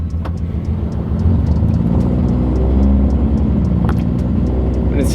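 Datsun 280Z engine idling close by with a steady low rumble and a slightly uneven, wavering tone, joined by faint intermittent ticks and clicks, with no talking.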